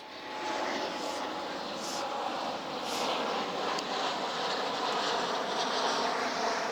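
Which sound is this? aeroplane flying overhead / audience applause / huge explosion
aeroplane flying overhead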